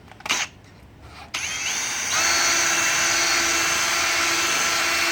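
A power buffer with a foam pad sands a car headlight coated in compound: a click and short bursts, then a steady high motor whine that starts and keeps running, loud and close.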